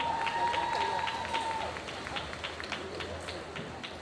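Audience at a Metz Torii 2022 cosplay contest applauding the contestants: a sustained wash of clapping and crowd noise across the whole stretch, with voices mixed in and a steady tone underneath.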